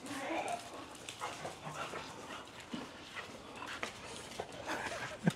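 Excited dogs whimper, yip and pant close by, fairly quiet, with a person talking intermittently alongside them.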